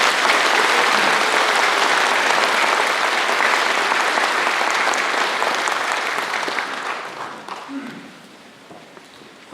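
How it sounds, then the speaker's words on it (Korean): Loud, dense applause from a county residents' gathering welcoming the South Chungcheong provincial governor in Geumsan rolls on for several seconds, then tapers off toward the end. "박수 크게 부탁드리겠습니다."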